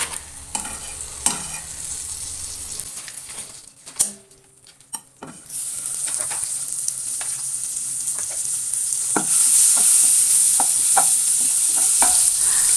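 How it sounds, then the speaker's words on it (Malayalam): Butter melts in a pan for chicken pasta masala, starting with a few clinks and handling noises, then a faint crackle that swells into a steady, bright sizzle filling the second half, close and without voices. "അതിലേക്ക് ഞാൻ കുറച്ച് ബട്ടർ ഇട്ട് കൊടുക്കുന്നുണ്ട്"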